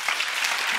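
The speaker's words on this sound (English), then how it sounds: "Claps for him." Brief burst of audience applause at a corporate talk, a dense, even patter of many hands clapping close by, lasting under a second.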